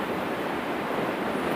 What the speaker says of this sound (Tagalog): Kusog na hangin ba?